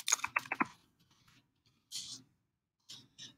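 A name being typed on a computer keyboard into a Scratch text-to-speech project: a quick burst of crisp key clicks at the start, then silence broken by a few short, softer taps.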